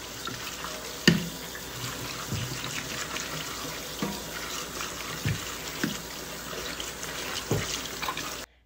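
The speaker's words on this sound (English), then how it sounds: "And then we rinse. Rinse, rinse, rinse, rinse." Tomatoes and jalapenos being rinsed under a running kitchen tap, a steady close splash of water with a few sharper knocks and clunks of produce against the sink, no voices.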